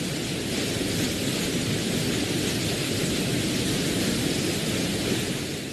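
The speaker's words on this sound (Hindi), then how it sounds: "फिर शहरों में शुरू हुई भीषण बारिश।" Heavy rain from Cyclone Nivar pouring down in a dense, steady roar, a constant storm hiss with low rumbling underneath and no break in intensity.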